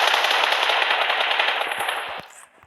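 Rapid automatic gunfire from the mobile battle royale game PUBG Mobile on the Livik map rattles loudly and continuously up close, then breaks off into a few scattered clicks as it stops.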